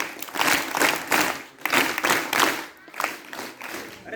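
School students at a government inter college applaud during a Hindi Day event, a dense, steady burst of many hands clapping in rhythmic waves, fairly close and loud.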